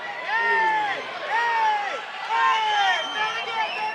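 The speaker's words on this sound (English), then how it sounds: "Crowd in full throat as we are going to get the final bell" A fight crowd at Monona Terrace roars loudly during a Chosen Few Fighting Championship MMA bout, the cheering swelling in waves under an excited commentator's voice throughout.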